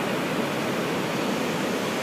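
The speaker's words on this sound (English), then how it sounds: "It's still a pretty big wall of water." Big ocean wave surging into Hanalei Cove, a dense, steady roar of crashing and rushing water filling the whole moment without pause.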